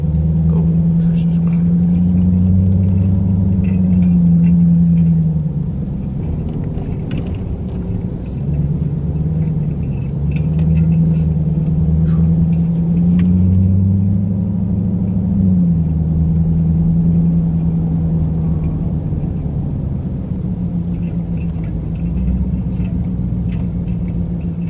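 A car engine rumbles steadily while Ellie drives, with a low droning tone that slowly rises and falls.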